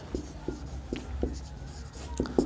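Chalk or marker taps and strokes on a board in a physics class, about seven short scratchy marks in an irregular rhythm, close and clear with faint room noise behind.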